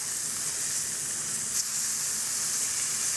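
Burger patties sizzling on a grill after being flipped, a dense, continuous close hiss and crackle of fat that holds steady throughout with no pauses, and no voices.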